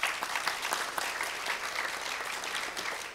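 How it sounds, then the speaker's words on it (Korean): An audience at a Korean scientists' next-generation leaders forum gives a dense, even round of applause. The clapping is moderately faint and lasts about three seconds, with no talking over it. "두 분 우리 김정아 교수님과 또 토론해 주시는 우리 윤홍석 교수님한테 큰 박수 한번 부탁드립니다."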